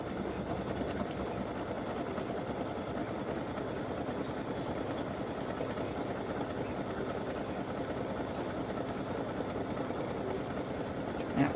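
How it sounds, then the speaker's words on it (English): Embroidery sewing machine stitching a satin stitch border around the edges of a tic-tac-toe game board, a fast, steady mechanical whir and needle chatter running continuously at even volume throughout. "I'm going to stitch the satin stitch around"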